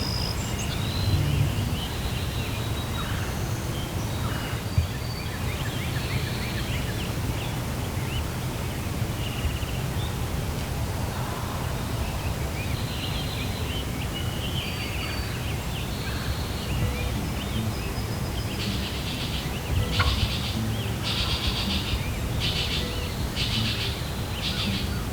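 Wild turkey gobblers gobble repeatedly at a distance, their calls rising over a constant wash of outdoor background noise for the whole stretch.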